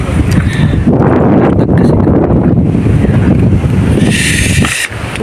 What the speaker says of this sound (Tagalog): sa ulo lakas ng hangin